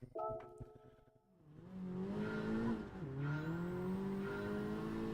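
Racing-game car braking hard with tires skidding and squealing, engine pitch dropping then revving back up in a steady loud roar.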